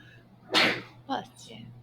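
A single sharp sneeze bursts out in a quiet classroom, followed by a softer second burst, with low room hum underneath.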